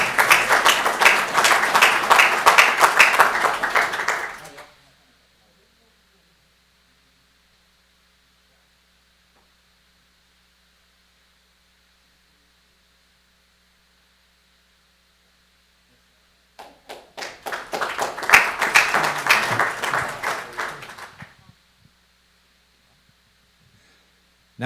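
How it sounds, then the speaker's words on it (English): An audience at a city employee service awards ceremony applauds in two bursts of roughly four to five seconds each, separated by a long quiet gap, the clapping moderately loud and even. "Let's give another round of applause."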